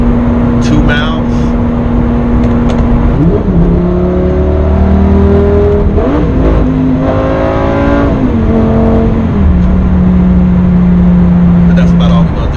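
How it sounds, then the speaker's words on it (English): A Lamborghini Gallardo engine accelerating on an open road, revving up through rising pitch sweeps with gear changes, loud and close throughout, with a steady engine drone between pulls. "So it's fast, man. The car accelerates."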